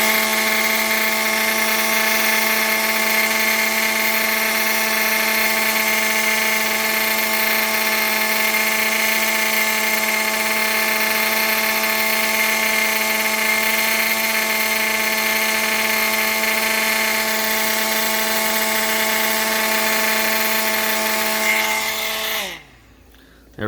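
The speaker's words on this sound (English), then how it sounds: "now we're going to take our heat gun and we're going to melt this guy" A heat gun melting low-temperature solder during a winch electrical repair: a loud, constant blowing whine with a steady fan hum that runs unbroken for over twenty seconds, then winds down and cuts off.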